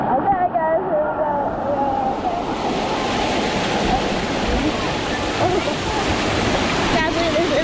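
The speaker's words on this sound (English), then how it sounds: "there's a whole entire waterfall on the stairs" Water pours down a flight of stairs like a waterfall, a loud, continuous rushing wash with a windy edge and a few faint tonal squeaks near the start and end.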